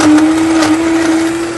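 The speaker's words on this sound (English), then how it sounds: "Get a nice little Vitamix going." A Vitamix blender whirs loudly at high speed as it blends a protein shake, a steady motor drone with a churning, slightly gritty texture, close and continuous.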